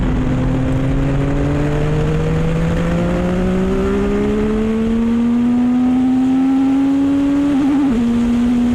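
A small electric motor of a 675SR-R RC car whines steadily, its pitch climbing slowly as it speeds up, with a brief wobble near the end.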